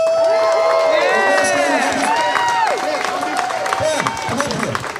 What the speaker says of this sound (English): everybody clap the pan and all the people who did this